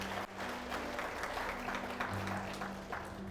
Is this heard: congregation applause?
yes